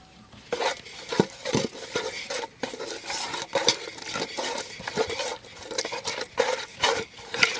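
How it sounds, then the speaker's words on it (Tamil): A spoon scrapes and clatters against a pan while mutton is stirred in coconut oil with salt, with irregular close scraping strokes and metallic knocks in quick succession throughout. "தேங்காய் எண்ணெய் வந்து ஆட் பண்ணிக்கலாம் லைட்டாக இப்போ வந்து இதை நல்லா மிக்ஸ் பண்ணிடுவோம்"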